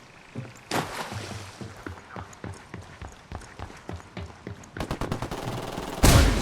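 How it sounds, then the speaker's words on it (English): Ghost Recon Wildlands combat: a run of rhythmic, snappy gunshots is followed by a loud, broad C4 explosive blast bursting at the very end. "Tango's heard the blast"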